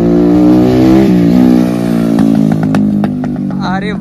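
A motorcycle engine revs loud and close, holding a steady roar, then fires off a series of sharp exhaust pops and crackles as the throttle drops.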